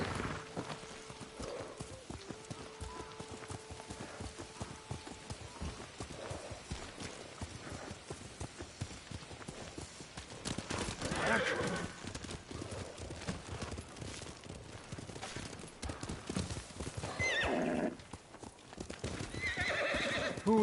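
Steady rhythmic clip-clop of a galloping horse in Ghost of Tsushima, with neighs and whinnies breaking through at intervals over faint game ambience.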